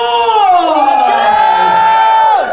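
Wedding guests cheer and shout loudly for the bride and groom, a sustained crowd roar with high whoops and long held yells that fade at the end.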